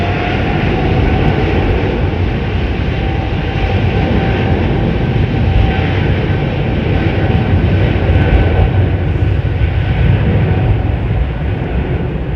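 Jet aircraft taking off at London Heathrow Airport: a loud, steady engine roar with broad rumble and a high whine running through the whole stretch, with no speech.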